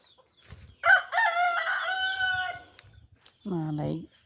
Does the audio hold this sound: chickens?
yes